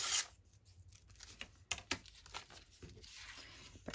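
Paper from a recycled envelope is torn by hand in close, quiet surroundings, with a sharp rip at the start followed by a series of short, intermittent tearing and crinkling sounds spaced irregularly.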